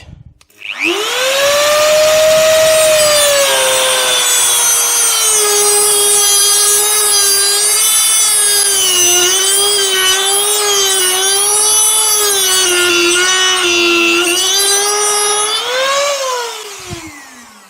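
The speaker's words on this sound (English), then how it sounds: "I'm pushing my luck on this cutting disc." A cutting disc grinds through metal on a Lambretta TV175 scooter under rebuild, a loud sustained high whine with a wavering pitch that ramps up at the start and winds down at the end.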